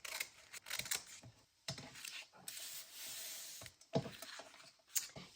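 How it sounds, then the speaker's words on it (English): Scissors quietly snip away a stretched edge in a series of soft, uneven cuts with light rustling between them. "So I'll just cut that edge off."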